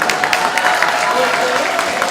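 A crowd claps steadily and loudly at an outdoor launch rally for local election candidates. The sound is a dense wash of many hands without a break.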